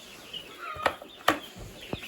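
Chicks and fowl on a farm give a few short, sharp clucks and chirps against quiet outdoor background, with three distinct calls spaced across the moment, close by and moderately loud.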